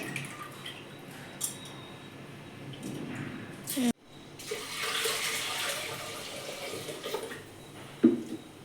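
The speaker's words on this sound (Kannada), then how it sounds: "ಹೆಸರು ಬೇಳೆನ ಉಟ್ಕೊಂಡಾದ್ಮೇಲೆ ಒಂದೆರಡು ಸರ್ತಿ ನೀಟಾಗಿ ತೊಳ್ಕೊಂಡಿದ್ದೀನಿ" Water sloshes and trickles as split moong dal is rinsed by hand in a vessel, with soft splashes and drips close by and a faint voice in the background.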